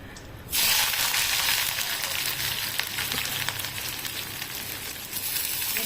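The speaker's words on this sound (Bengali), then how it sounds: "শুকনো লঙ্কা তেজপাতা ফোড়ন দিলাম কেটে রাখা পেঁয়াজ এখানে" Chopped onions drop into hot oil already tempered with dried red chilli and bay leaf, breaking into a loud, steady sizzle after a brief quiet start and frying on continuously up close.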